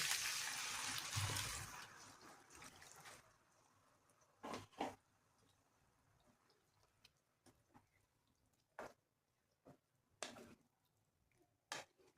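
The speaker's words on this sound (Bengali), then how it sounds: "এবার আমি এর মধ্যে একটু গরম জল দিয়ে দেবো" Hot water poured into a well-fried jackfruit curry masala in a pan, a loud splashing gush at the start that settles into sizzling, with a few sharp clinks of utensils later.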